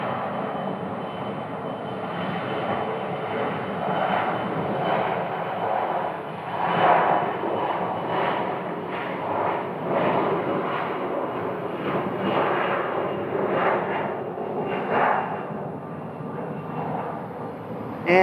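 A SkyWest Embraer 170 regional jet, flying as American Eagle, rolls for takeoff at Phoenix Sky Harbor with a steady, fairly distant engine roar that swells and surges gently throughout, heard alone.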